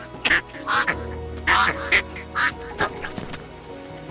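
Several loud, nasal duck quacks from a video game animal mod in quick bursts, close and clear over a low steady electronic hum.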